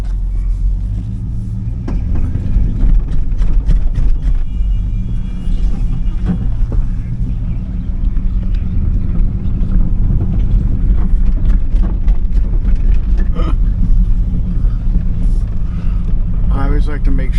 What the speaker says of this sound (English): Alright, let's take a ride.